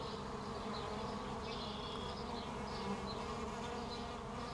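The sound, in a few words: bees buzzing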